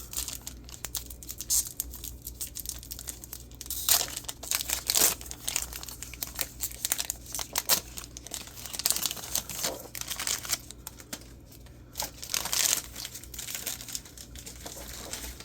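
A trading card pack wrapper is torn and crinkled open, giving repeated crackling, crumpling bursts close up over a quiet background, with no talking.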